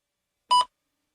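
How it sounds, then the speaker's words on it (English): A single short electronic beep sounds on its own, a clean tone cueing the start of a TOEFL speaking response, with silence before and after. "Please begin speaking after the beep."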